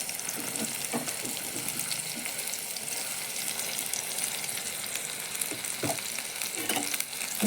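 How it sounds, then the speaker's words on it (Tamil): Cut okra frying in a pan, a steady loud sizzle with intermittent scraping and stirring knocks throughout, no talk. "இப்போ நம்ம கட் பண்ணி வச்சுருக்க வெண்டைக்காவை சேர்த்துக்கலாம்"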